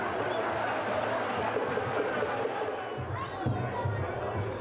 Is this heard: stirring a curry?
no